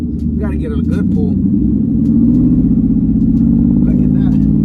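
A single-turbo Ford Mustang with an eBay turbo pulls hard, its engine note a loud, steady, rising drone that fills the whole stretch while voices talk over it.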